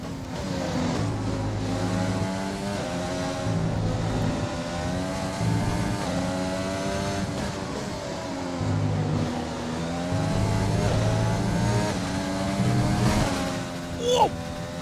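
Formula 1 race car engines roar continuously in the F1 2020 racing video game, the high revving whine climbing and dropping through gear shifts over steady loud background for about fifteen seconds.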